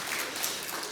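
A brief burst of many hands clapping in a church during a Sunday morning service as new members are welcomed, a continuous crowd patter at steady volume.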